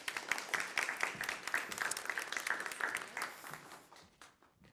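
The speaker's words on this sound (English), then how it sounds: "Give her a warm applause" Audience applause for a speaker at an event on nuclear threats, an energetic burst of many hands clapping that holds steady and then tapers off toward the end.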